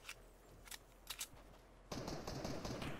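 Gunfire in the video game Fortnite, a few faint, scattered shots early on, then a denser, louder burst of game noise in the final second with no talk.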